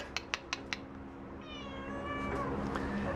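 A cat at an animal shelter gives a drawn-out, rising meow after a few short clicks, fairly faint against steady background noise.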